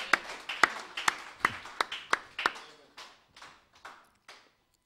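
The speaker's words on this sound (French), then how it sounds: "Let's clap for the Lord Jesus Christ." A church congregation claps for the Lord Jesus Christ during a prayer service, a brisk run of sharp, regular claps that thins and fades into a few sparse, softer claps toward the end.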